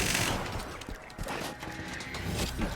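A deployed turret in Borderlands 2 fires a sustained, rapid stream of shots with clattering impacts, loud and close amid hectic combat noise.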